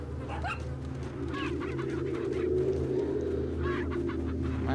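Chickens clucking in the Resident Evil 4 video game on GameCube, a few short bird calls over a steady low game-ambience drone, with no talking.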